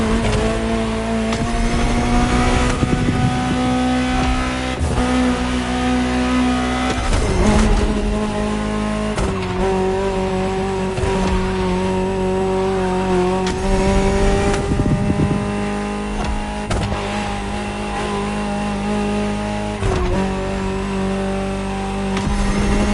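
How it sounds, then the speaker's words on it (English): A Ferrari supercar engine in The Crew revs loudly and continuously, pitch rising and falling through gear changes with strong steady harmonics, alone without talk throughout. "Just listen to the car you're driving."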